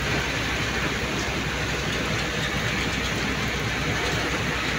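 Steady rain falls in a dense, unbroken hiss on a fishing trip outdoors, with no wind, loud and even from start to finish with no voices.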